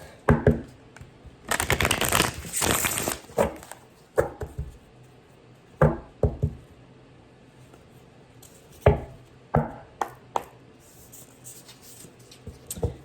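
Bursts of stiff, heavy-stock tarot cards being shuffled, a long riffle followed by several shorter slaps and taps, close by with quiet gaps between.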